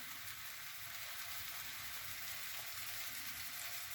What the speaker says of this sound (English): As you can see, the pans are going here.